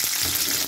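Onions frying in a pan for a simple breakfast dish, a steady close sizzle filling the short moment without any talk.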